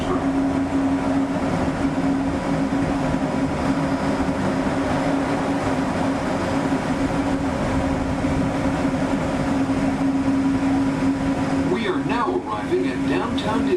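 A Disneyland Resort train arriving at Downtown Disney Station gives a steady rumbling roll with a constant hum, continuous and fairly loud, while an announcement voice speaks over it.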